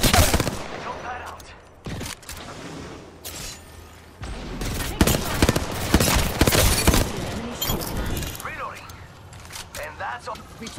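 Bursts of gunfire in Apex Legends crack loudly and repeatedly, clustered into rapid volleys with short gaps, while a voice speaks over the shooting.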